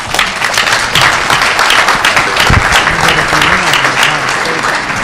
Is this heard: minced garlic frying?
no